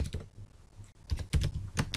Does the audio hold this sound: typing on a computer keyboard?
yes